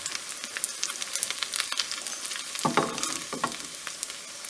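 Ullivada onion fritters, a Kerala snack made with leftover rice, frying in hot oil, giving a steady crackling sizzle with scattered pops and a brief stir or scrape partway through, close and without talk.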